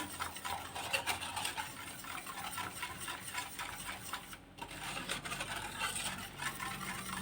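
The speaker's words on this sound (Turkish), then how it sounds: "Ocağa almadan önce şöyle güzelce karıştıracağız." Steady, brisk whisking of a thick pudding mixture, a continuous scratchy swishing against a bowl, close and fairly even throughout.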